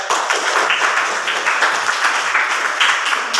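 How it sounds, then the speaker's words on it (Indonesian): Classroom of students clapping for their classmates, a brisk, even patter of many hands held steady for a few seconds at close range, with no talking over it. "Beri aplaus atau tepuk tangan untuk teman kalian."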